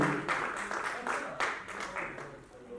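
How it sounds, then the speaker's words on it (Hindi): A crowd at an awards ceremony in Jaipur applauding steadily, with dense clapping that swells in bursts, mixed with a voice speaking over it. "तो एक बार शिखा शर्मा जी के लिए जोरदार तालियां।"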